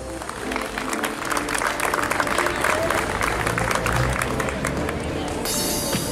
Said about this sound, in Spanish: Fuertes aplausos para todos nuestros profesores de las diversas áreas.